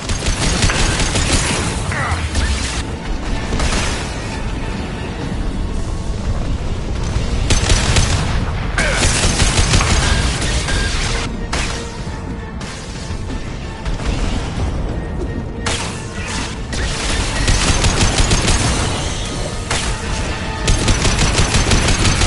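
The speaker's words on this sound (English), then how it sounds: "Firing anti-ship batteries at collector vessel." Anti-ship batteries firing at the Collector vessel in Mass Effect 2: loud, sustained volleys of heavy rapid gunfire and booms come in long bursts separated by brief lulls.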